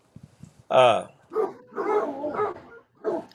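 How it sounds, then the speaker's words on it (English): Dogs barking indoors at a home, a few yelping barks and whimpery vocal bursts close by, with faint scratchy sounds at the start and speech mixed in around them. "Can you hear my dogs?"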